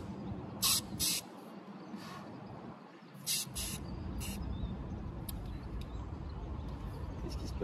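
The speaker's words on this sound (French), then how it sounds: "quand je vais appuyer, la pression va baisser dans le pistolet, parce que je vais commencer à injecter de la peinture à l'intérieur" Paint spray gun of a pressure roller kit injecting paint under pressure, heard as a steady broadband hiss that runs the whole time, with a few short sharp bursts near the start.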